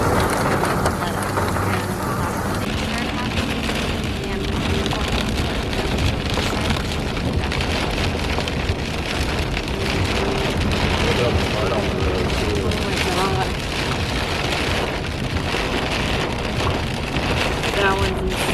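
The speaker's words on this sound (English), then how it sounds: "As soon as we got back, it started to hail" Heavy rain and hail from a storm near Moab pound down in a dense, steady roar, with voices talking faintly beneath it.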